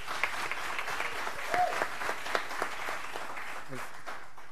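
Applause at a county school board meeting, a steady patter of clapping hands from a modest indoor audience, moderately loud and lasting several seconds with a few voices mixed in.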